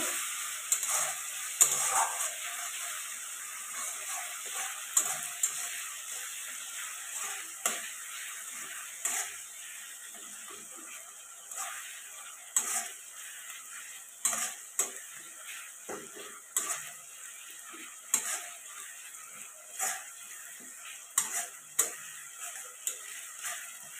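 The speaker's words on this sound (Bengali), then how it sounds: "তো আদা রসুন বাটাটা দিয়ে ভালো করে কষিয়ে নিতে হবে" Ginger garlic paste sautéed in a pan for a taro and egg curry, a faint steady sizzle with repeated sharp spatula scrapes and taps at an uneven rhythm, close and without talk.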